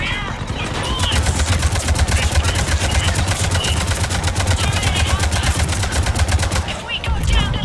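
Dense, rapid automatic gunfire from the video game Mass Effect Legendary Edition rattles continuously in loud, close bursts for several seconds.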